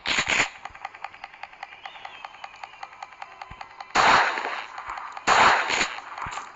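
Gunshots fired in the horror video game Granny 2, three loud sharp bursts at the start and again near the middle and end, with a quieter crackling, rattling game soundscape in between and no talk.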